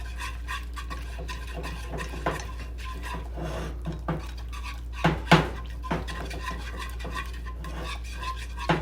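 A small whisk beating a seasoned mixture with garlic powder in a bowl for potato stacks: rapid close scraping and rattling strokes with occasional louder clinks against the bowl, over a low steady hum.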